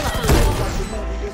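A dense burst of gunfire in a shooter video game, loud and booming, with overlapping shots rolling into a sustained rumble that fades slightly toward the end.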